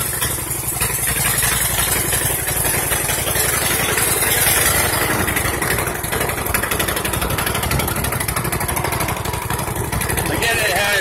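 A rebuilt 21 HP V-twin engine runs steadily and loud through the whole stretch on its first test drive with no throttle hooked up, a continuous close rumble with voices faintly mixed in.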